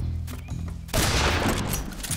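A loud burst of rapid gunfire from Metal Gear Solid 3 erupts after a brief quieter stretch, a dense fusillade of overlapping shots that keeps going to the end.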